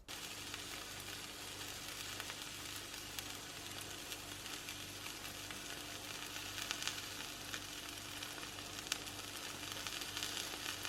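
A mushroom and cheese omelette sizzles steadily in a frying pan, a continuous soft crackling hiss that is fairly quiet and close, with no voices.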